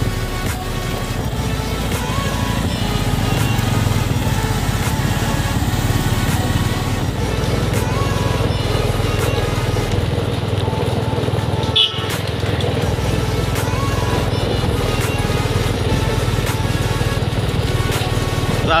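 Motorcycles pass along a foggy road, a continuous droning engine noise that stays loud and steady, briefly dipping midway.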